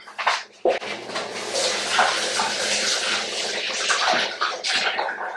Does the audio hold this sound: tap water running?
yes